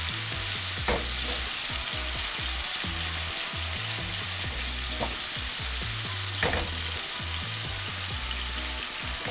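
Red lechwe backstrap sears in hot oil, a loud continuous sizzle and crackle close by, with occasional soft thumps and scrapes as the meat is moved.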